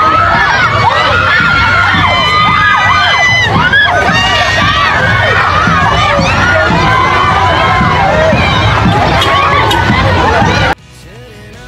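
A large street parade crowd in Gingoog City shouts and cheers loudly and continuously, children's voices rising over excited chatter until the noise cuts off abruptly near the end.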